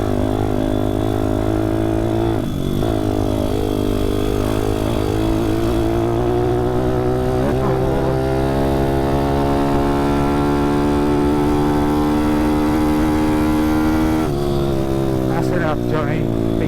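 A 155cc pit bike engine droning steadily while riding, a close and loud buzz whose pitch rises and falls with the throttle, with short bursts of talk over it.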